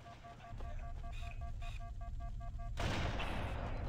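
Marines firing rifles in Halo CE, a steady run of rapid shots under loud continuous game noise and a repeating tonal beeping, ending in a louder burst of noise.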